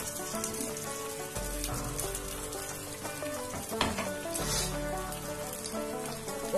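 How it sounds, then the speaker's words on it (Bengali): Patishapta, a thin sweet crepe, frying in a pan, giving a continuous, even sizzle with soft crackle throughout, over a steady tonal background hum. "এবার এটা ভাজা হওয়ার জন্য কিছুক্ষণ"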